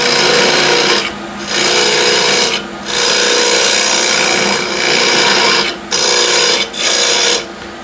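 A lathe tool cuts a lid recess into a wooden box being turned from an old window sill. The loud, close scraping comes in sustained bursts broken by several brief pauses as the cutter lifts away.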